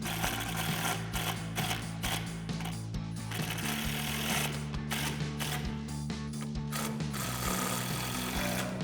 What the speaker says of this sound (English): we're going to grab our T25 Torx bit on our impact and gently run these in